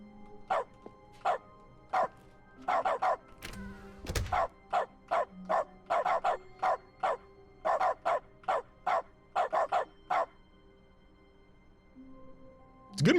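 In dog mode of the video game The Stanley Parable, a dog barks in a steady run of short, evenly spaced woofs, clear and close, with a single dull thump partway through and no one talking.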